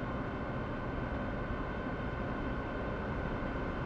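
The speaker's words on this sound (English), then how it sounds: "Another train there." Steady, dense rumble of a passing train in the video game Train Sim World fills the clip, broadband and constant with no talking.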